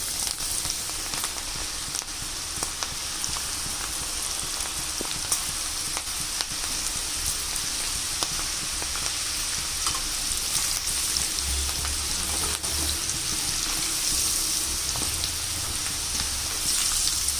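Okra slices fry in hot oil for a crunchy snack, producing a steady bright hiss with scattered crackles and light pops, heard close and unbroken, with no talking.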